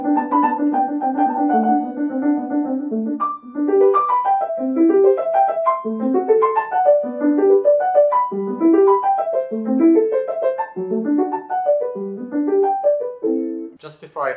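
A piano played with both hands together, a lower repeating pattern under a stepping melody in a steady rhythm, clear and close with no talk.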